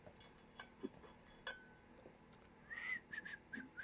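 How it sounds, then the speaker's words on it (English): Someone whistles while walking, the quiet tune arriving in short, faint bursts with a longer run of notes near the end. "I'll walk back whistling."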